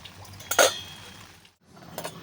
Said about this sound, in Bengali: এবার এই মুগ ডালটাকে ভালো করে তিন থেকে চারবার ধুয়ে নেব